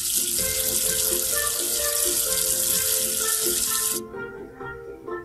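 Tap water gushes loudly to rinse soap away, a bright steady rush over light music that cuts off sharply near the end, leaving quieter tones.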